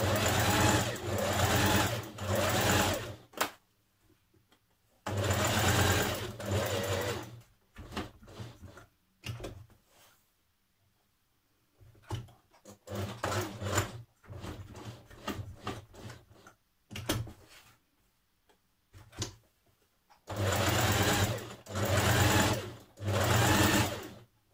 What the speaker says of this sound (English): what we're going to do is we're going to stitch down this side, then square it off at the bottom, and then stitch up the other side